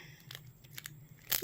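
Three short, crackly rasps of adhesive tape being pulled off a roll, close by, the last one loudest.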